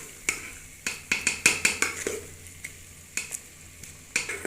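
Egg and onion are stirred as they cook in a pan. Sharp, rhythmic scrapes and clinks of the spoon on the pan sound over a low sizzle, close up, with no talk.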